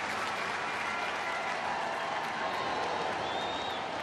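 A big crowd at a Reds versus Cardinals baseball game applauds and murmurs in a continuous wash of clapping that fills the stadium, faint and distant throughout.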